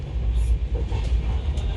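A train rolls past on a railway close by, a steady loud low rumble filling the whole stretch with no clear breaks.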